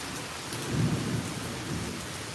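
A Tampa, Florida afternoon thunderstorm: a steady hiss of rain with a low rumble of thunder that swells briefly and fades, faint and distant, with no talking.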